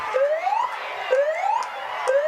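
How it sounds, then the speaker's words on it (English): Full-time siren at a first-grade rugby league match between Nambucca Roosters and Sawtell Panthers, a loud rising wail repeating about every second in three even cycles with no speech over it. "the full-time siren goes in the background"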